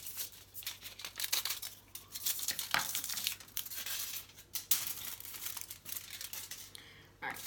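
Scissors cut through aluminium foil for a homemade switch, producing irregular crinkling and crisp tearing sounds close by, with quiet talk in the background.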